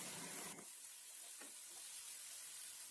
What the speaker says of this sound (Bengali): পেঁয়াজটা লাল হওয়া পর্যন্ত ভেজে নেব